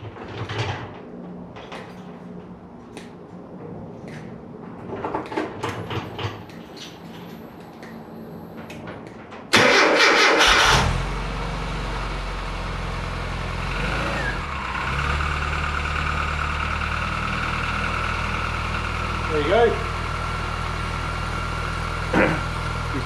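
After some clattering and knocking, a classic Mini engine cranks briefly and catches, then settles into a steady idle hum with a few faint clicks.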